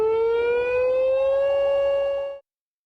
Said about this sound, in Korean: 공습 경보를 발령합니다.